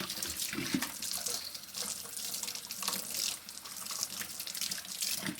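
Tap water streams steadily over an orchid infested with mealybugs as it is rinsed under the faucet, a continuous close splashing and hissing with small fluctuations and no voices.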